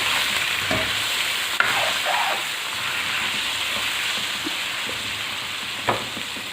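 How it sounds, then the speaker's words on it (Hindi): Ginger garlic paste sizzling with frying chicken in a karahi while a spoon stirs and scrapes, with occasional light clinks over a constant hiss. "अब इसमें मैं डाल रही हूँ अदरक लहसुन का पेस्ट।"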